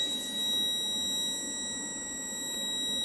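A multimeter's continuity beep sounds as a steady high-pitched tone while probing an EV charger's DC sensing circuit at the battery's positive connector, held unbroken over a low background hiss.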